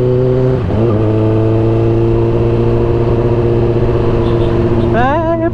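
A Kawasaki ZX-10R motorcycle's loud exhaust holds a steady, droning idle, then revs up sharply near the end, close and prominent throughout.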